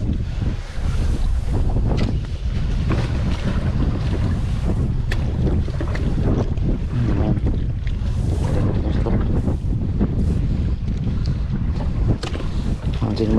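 Strong wind buffets a squid fishing boat at sea, a steady roaring gust noise with water and waves sloshing against the hull, continuous and loud throughout.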